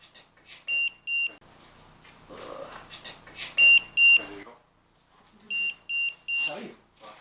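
Short electronic beeps come in bursts of two or three sharp high tones, recorded during a paranormal investigation at a farm, with quiet talking between the bursts.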